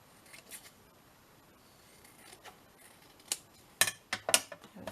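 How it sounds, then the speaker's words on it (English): Scissors snip through cereal box card, a few sharp crisp cuts close by near the end after quieter rustling, with no talking. "Just cut it out nicely."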